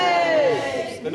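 Pantomime audience at a Beauty and the Beast show lets out a brief, loud collective cheer, a swelling group shout heard close and lasting about a second.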